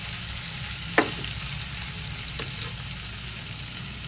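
Onions sauté in a pan for dhaba-style paneer bhurji, a steady close sizzle with a single sharp scrape of a spatula early on and a fainter knock later.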